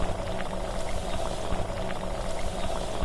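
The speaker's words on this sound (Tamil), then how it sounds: "தண்ணி இஞ்சிற அளவுக்கு நல்லா அப்படியே கொதிக்கட்டும்" Water boiling with coconut milk rice in a pot, a dense steady bubbling and simmering heard up close and alone, with no speech.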